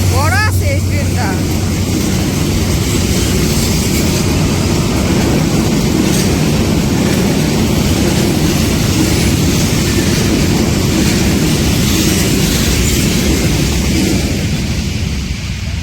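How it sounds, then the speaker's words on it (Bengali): A long train rolls past close by in a village beside vegetable fields, a loud continuous rumble and clatter that fills the whole stretch, with a short tonal wail at the start. "এ পাশে আসতে পর দেখি আরেকটা ট্রেন আসতেছে"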